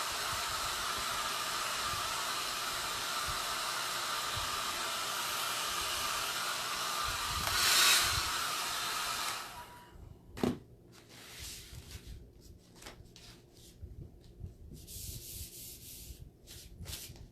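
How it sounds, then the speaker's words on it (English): A blow dryer on its cool setting blasts a steady hiss of air over a chalk paste screen, then cuts off around the halfway point, leaving quiet rubbing and handling noises. "So I'll just give it a quick dry with a cool setting on the blow dryer."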